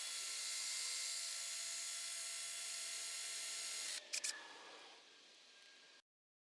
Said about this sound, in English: I'm just drilling out the set screws for the rotor because they are old and